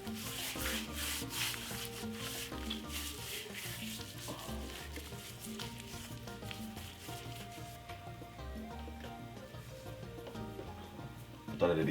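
Hands rub all-purpose seasoning into a raw leg of lamb, a steady, close scratching rub that runs throughout under prominent background music.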